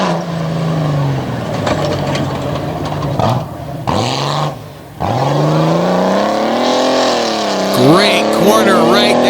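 A stock race car at the Dragway 42 course runs steadily around the track with a loud, sustained engine drone, rising and falling with the revs and dipping briefly mid-run, while a commentator talks over it.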